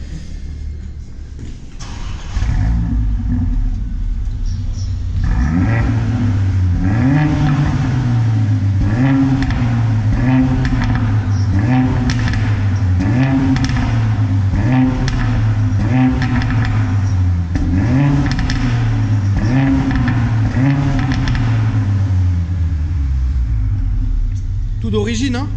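Mercedes A45 AMG engine revving repeatedly in a loud, steady series of rising and falling surges after a brief quiet start, deep rumble throughout with people talking over it.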